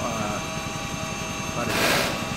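A video game helicopter with a steady whirring rotor and engine drone, loud and continuous under radio chatter, swelling briefly near the end.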